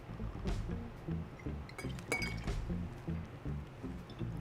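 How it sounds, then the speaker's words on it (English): Ice cubes clink repeatedly against a glass as a dark rum cocktail with brown sugar and Angostura bitters is stirred with a spoon, close and steady over a low musical background. "a few cubes of ice, stir."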